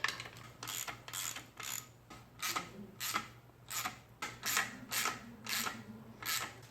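A wrench ratchets in repeated short bursts as clutch bolts on a Mazda Miata are tightened gradually one by one, steady clicking strokes close up over a low background hum.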